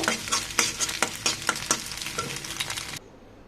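Scrambled egg frying in a pan, broken into small pieces with a utensil: a quick run of rhythmic scraping strokes over a steady sizzle, close and fairly loud, stopping abruptly near the end.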